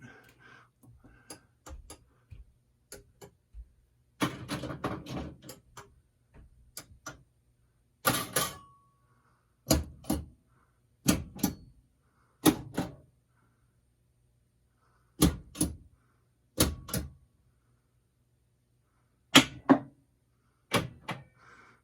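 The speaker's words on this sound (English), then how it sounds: "So all the solenoids were firing." Gottlieb System 80B pinball machine solenoids firing one after another during a test, giving sharp, loud mechanical clunks in irregular bursts separated by short silent gaps.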